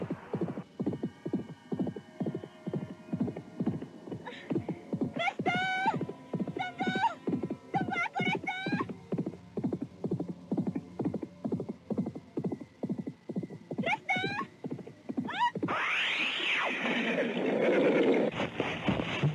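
A galloping horse runs in a steady rhythmic beat beneath repeated loud whinnies. Near the end a rushing, tumbling crash follows, as in an audio drama sound effect.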